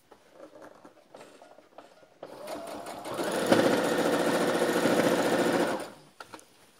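A sewing machine runs a tight pressure stitch along the belt of a salwar, a steady fast mechanical whir lasting a few seconds, close and loud, with softer handling clicks before and after.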